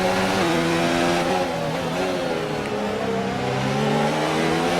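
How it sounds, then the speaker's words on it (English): In an F1 video game race at Baku, a Formula 1 car engine revs hard through aggressive downshifts, its tone sliding in pitch as it is pushed to the limit. The engine sounds close and loud and runs continuously, with no talking. "Very aggressive on the downshifts there, pushing that engine to the absolute limit in clean revs."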